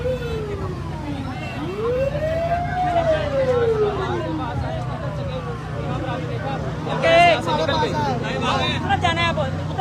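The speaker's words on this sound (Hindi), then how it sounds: "एम्बुलेंस पीछे एम्बुलेंस पीछे हुई है, एम्बुलेंस का रास्ता दें।" Ambulance siren wailing through traffic, a rising and falling tone close by that carries steadily over engine rumble, with someone speaking loudly over it.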